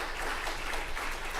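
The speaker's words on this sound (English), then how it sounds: "You can applaud." Audience applause at a Shabbat evening service in Brooklyn Heights Synagogue, a brief steady burst of many hands clapping together.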